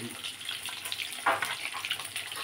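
Food frying in a pan at home, heard as a faint, continuous hiss and crackle with a brief louder spatter near the middle.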